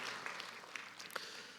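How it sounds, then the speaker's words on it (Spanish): Church congregation applauding in a faint, distant wash of clapping, with a few sharper individual claps standing out. "Dele ese fuerte aplauso al que vive y reina."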